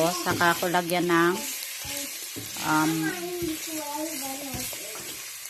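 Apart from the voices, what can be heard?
frying garlic and onion in a pan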